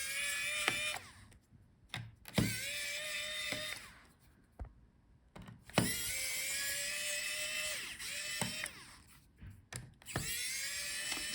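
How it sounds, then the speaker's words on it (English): An electric screwdriver backs screws out of an HP Omen 15 laptop during a teardown, with several bursts of high whining spin separated by short pauses, close and fairly loud. "It might be easier if we take out the battery first, so let's unscrew the screws."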